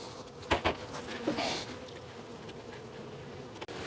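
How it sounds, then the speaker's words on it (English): A steady low buzz of many honeybees fills the background, with a few knocks and rustles up close. "All right, so let me get my bees out of the way."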